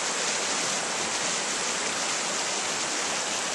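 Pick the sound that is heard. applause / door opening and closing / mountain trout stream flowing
mountain trout stream flowing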